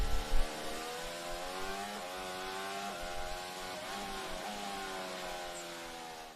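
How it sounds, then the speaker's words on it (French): A Formula 1 car engine revving during qualifying at the Catalunya Grand Prix, a steady high-pitched whine with stacked harmonics that climbs and drops with each gear change, holding loud and continuous for several seconds. "On entend le moteur s'emballer un peu dans son régime."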